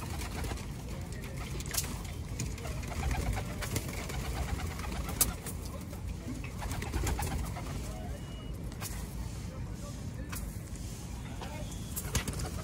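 Several Hyderabadi pigeons coo close by in low, throaty murmurs in a Delhi loft, with rustling and occasional wing flaps under a faint background of traffic.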